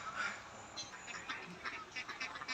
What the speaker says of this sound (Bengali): আমি যদি আপনাকে হাঁসটি একটু দেখাই দেখুন কত সুন্দর করে ডাকতেছে